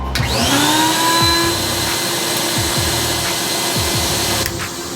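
A central vacuum cleaner whines up to speed and then runs at a loud, steady drone, with a few faint knocks underneath.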